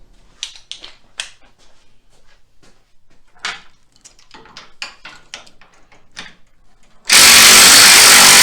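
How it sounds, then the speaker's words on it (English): Clicks and light clatter of tools being gathered give way to a sudden, sustained loud burst from an impact wrench with an extension and swivel socket on Harley-Davidson riser bolts, very close. "Now I need to get my impact, an extension, and a 3/4 inch swivel socket."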